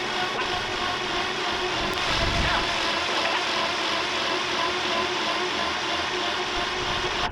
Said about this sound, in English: I just hooked the controller that came with the winch up for now, just for a test.